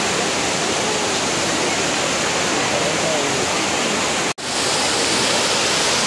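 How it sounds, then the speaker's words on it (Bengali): Waterfall in the Keonjhar countryside, a steady broadband rush of falling water that stays loud and close, with one brief dropout near the end. "আর এই যে ওয়াটারফলটা।"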